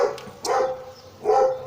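A dog barks twice in short, sharp bursts about a second apart, fairly close and clear, with no talking around it.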